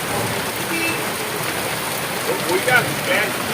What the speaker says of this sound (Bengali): আর এত জোর বৃষ্টি হচ্ছে